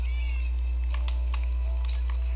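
Anya the pet cat gives a couple of short, thin meows over a steady low electrical hum, fairly close and alone.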